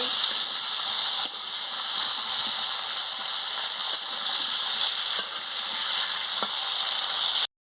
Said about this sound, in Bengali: ভালো করে আলুকে আর পটলটাকে আমি ভেজে নিচ্ছি